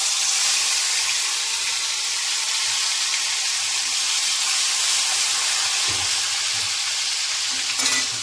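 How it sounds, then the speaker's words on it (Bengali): Chicken gravy hitting hot oil sets off a steady, loud sizzle and hiss that runs unbroken from start to finish, with a faint clink near the end and no voices. "অনেকে ভয় পায় যে এই গরম তেলের মধ্যে আমি যদি ডাইরেক্ট এটা যদি ঢেলে দিই তো এটা ফুটার চান্স থাকে"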